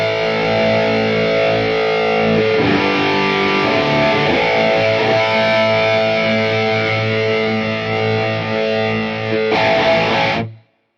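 Electric guitar played through a Quad Cortex, an expression pedal slowly rolling in more gain, rings out as loud sustained distorted chords for about ten seconds before cutting off abruptly, with no voice.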